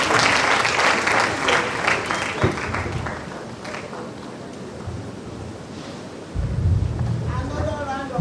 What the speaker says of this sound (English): Another round of applause for Dr. Olayinka.